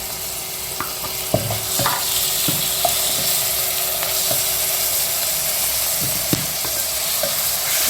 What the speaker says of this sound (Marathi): मातशें भाजून पियाज मातशें भाजला तितून टोमॅटो एड करूं.